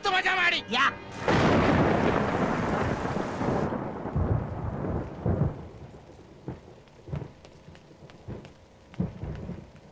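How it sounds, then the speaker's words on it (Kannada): Heavy rain pours down with a loud crack of thunder at the start, then the downpour settles into a steady patter with scattered drips and splashes close by. "ಮಳೆ ಬರ್ತಾ ಐತೆ"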